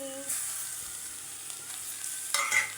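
Tomato dropped into a pan of frying garlic, giving a close, steady sizzle that flares louder near the end as the pieces are stirred in.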